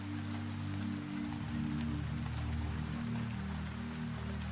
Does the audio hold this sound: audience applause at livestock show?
no